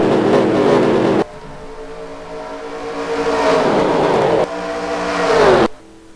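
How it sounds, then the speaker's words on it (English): Race cars roar past at Talladega, loud engines droning at full throttle with sharp cuts and swelling pass-bys as the pack thunders by, no voices. "The green flag's out, and we're racing here at Talladega."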